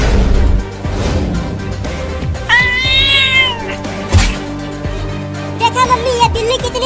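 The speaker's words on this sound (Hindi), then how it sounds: "ये बिल्ली कितनी ढीठ है" A cat meows in a comic Hindi cartoon, with a clear rising-falling meow in the middle and further mewing calls near the end over a continuous background of music and effects.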